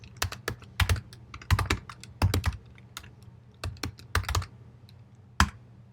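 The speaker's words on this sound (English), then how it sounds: "So I'm just going to type in exit my validator." Keys clatter on a computer keyboard in irregular bursts of sharp, close clicks with short pauses between, with no voices heard.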